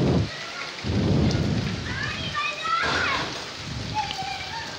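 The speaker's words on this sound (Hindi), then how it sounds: "बहुत ही और शदीद खूबसूरत बारिश बरस रहा है" Heavy monsoon rain pours steadily with a dense hiss, while voices talk over it in bursts throughout.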